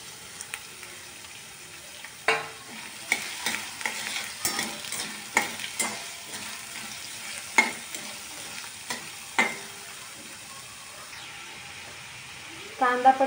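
Three or four chopped onions fry in a pan, a quiet sizzle under repeated irregular scraping strokes of a spatula stirring them, with a louder clatter right at the end.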